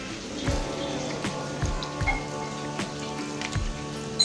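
Gota nimki dough frying and slowly rising in hot oil, giving a steady, dense crackling sizzle with soft low thumps now and then, close and continuous.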